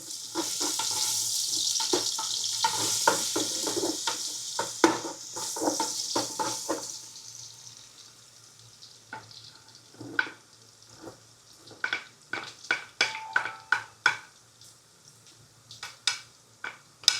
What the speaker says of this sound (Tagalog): saute naman natin ang garlic